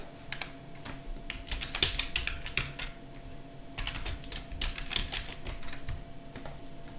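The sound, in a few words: typing a command on a computer keyboard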